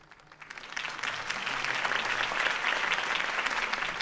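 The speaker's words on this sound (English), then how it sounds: "could have heard that applause" Crowd applause in the Telltale Batman video game, a steady wash of clapping that swells after a quiet start and holds loud and dense to the end, with no voices over it.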